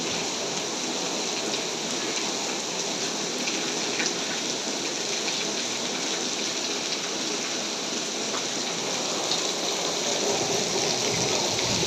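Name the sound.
heavy rain pouring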